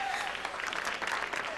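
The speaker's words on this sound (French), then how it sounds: "On applaudit bien fort." Audience applause for a young band, a steady wash of clapping from a crowd throughout, loud and continuous with no talk over it.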